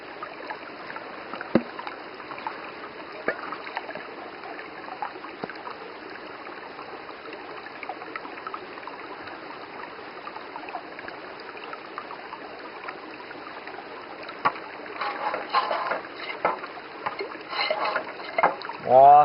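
Water trickling and splashing through a steady stretch of washing and rinsing with eco soap, faint and continuous, with louder splashing near the end.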